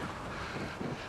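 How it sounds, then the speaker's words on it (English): Wind gusts across the roof of the New Zealand Parliament's Beehive building, a loud, steady roar of buffeting against the microphone throughout the brief stretch, with no voices. "It's getting a little bit breezy."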